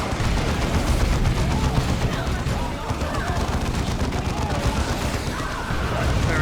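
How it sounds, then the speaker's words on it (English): Sustained gunfire in the Dawn of War II video game as troops shoot a building, dense continuous bursts and booms filling the clip loudly without a break. "Start shooting the building, Avidus."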